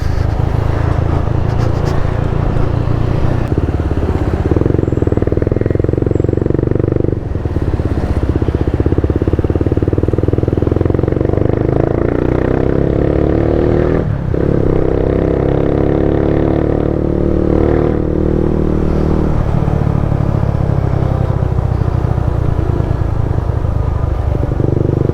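A motorcycle with a 28mm carburetor on 115 and 38 jettings rides a road test around Baguio City, its engine droning steadily and close, with rises and dips in revs and a brief lull partway through.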